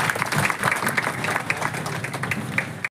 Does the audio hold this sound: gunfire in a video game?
no